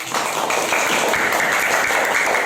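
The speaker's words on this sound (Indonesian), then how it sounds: "Tepuk tangan untuk kelompok." Classroom applause for a student group after their presentation, a short burst of brisk clapping from a small crowd, fairly close and steady.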